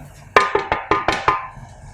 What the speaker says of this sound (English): This is the sound of the table.